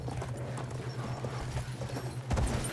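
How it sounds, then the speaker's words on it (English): Horse hooves clip-clop in Battlefield 1 online Conquest gameplay at Fao Fortress, a steady rhythmic trot close by with a low droning hum underneath and a louder thud near the end. "Let's ride the freaking horse."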